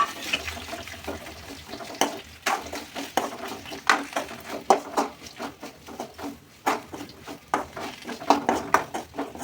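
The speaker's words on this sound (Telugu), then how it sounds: "ముందుగా తయారు చేసుకున్న పేస్ట్ని ఇందులో వేసి మిక్స్ చేసుకోండి." Bhindi (okra) fry being stirred with a prepared paste in a pan, with irregular wet scraping, clinks and squelchy sounds at moderate, uneven loudness.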